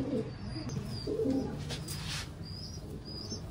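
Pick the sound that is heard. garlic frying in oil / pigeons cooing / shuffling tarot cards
pigeons cooing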